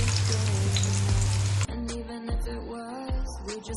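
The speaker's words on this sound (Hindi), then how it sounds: "कबाब हमारे अच्छी तरीके से फ्राई हो गए हैं" Chicken malai kebabs fry in a pan with a loud, dense sizzle at first, then the crackle drops to a softer, uneven bubbling, broken by occasional pops.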